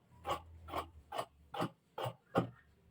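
Scissors cutting fabric for a pencil skirt, six evenly spaced crunching snips in a steady rhythm, close and fairly soft, with no talk.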